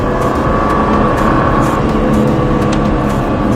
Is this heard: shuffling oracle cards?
no